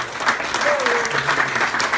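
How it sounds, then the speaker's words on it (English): Applause from an audience at a volunteer appreciation event, steady dense clapping filling the whole moment, with a brief voice or cheer passing over it. "So please give each and every one of you a big round of"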